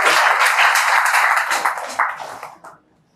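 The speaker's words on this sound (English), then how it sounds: "A big round of applause for him." Audience applause at an IAS coaching institute event, a dense burst of clapping from a crowd that fades out over the last second.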